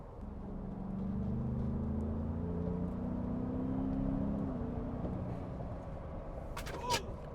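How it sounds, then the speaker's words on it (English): A turbocharged car accelerates smoothly as boost builds, its engine drone rising steadily in pitch from inside the cabin, then easing off, with a couple of brief clicks near the end. "Nice and smooth acceleration on this thing. With that boost coming up, it's nice."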